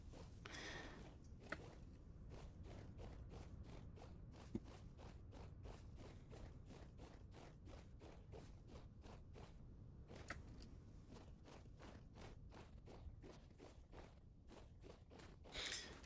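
Heavy bear footsteps in the survival game Vintage Story, a long, steady run of evenly spaced thuds at a walking pace that stays at moderate loudness the whole way through, with no voices over them.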